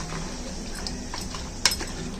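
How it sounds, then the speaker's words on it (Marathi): A utensil stirs and scrapes through usal in a pan, soft and steady, with one sharp metallic clink partway through. "त्याच्या अगोदर हे ना चांगलं मिक्स करून घेऊया"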